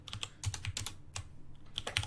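Keys clatter on a Japanese computer keyboard in quick, uneven bursts of taps, soft and close in a quiet room.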